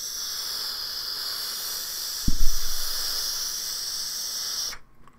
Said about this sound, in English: I'm going to turn this tank while I hit it just so that you can hear the steadiness of the air